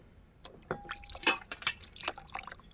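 Fresh okra being washed by hand in a basin of water, giving scattered close splashes and drips with a few sharper sloshes, no voices.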